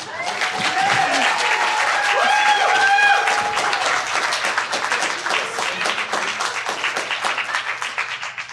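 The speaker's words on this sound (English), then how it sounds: "let's have another round of applause for Will" Applause at an April Fools debate event for a debater, a strong burst of many clapping hands that continues steadily, with a few voices and whoops rising over it early on.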